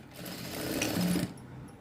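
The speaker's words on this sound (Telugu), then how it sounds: "ఇలా గ్యాప్ పెట్టేసుకొని ఈ విధంగా కుట్టు అనేది వేసుకోవాలి." A sewing machine stitches a blouse seam with a quarter-inch gap, a steady close whirring run that holds for about a second and a quarter, then drops to softer room noise.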